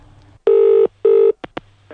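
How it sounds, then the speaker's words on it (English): A telephone in a political party's central office rings two loud, steady electronic bursts, then gives a couple of short clicks as the receiver is picked up, with no voices. "In Conservative Central Office, the phone is ringing."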